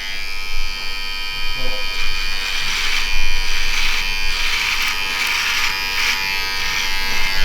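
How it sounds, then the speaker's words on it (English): Cordless electric hair clippers buzz steadily up close as they trim and shape a beard, a continuous high whine that holds for several seconds while someone talks over it. "This is the first time I'm using these clippers"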